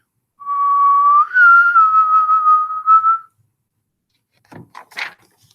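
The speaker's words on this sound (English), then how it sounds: "So she whistled loudly" A loud sustained whistle holds a single tone, then warbles briefly before stopping, followed by a few quiet clunking knocks.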